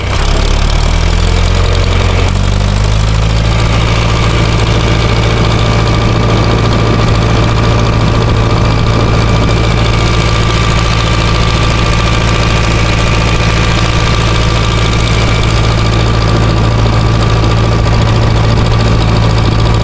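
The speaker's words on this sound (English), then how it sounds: "This steam engine is from the early 1900s." An early-1900s steam engine runs steadily at a sorghum mill, a loud continuous low throb with a rhythmic mechanical chug and broadband machinery hiss, close by and without talk.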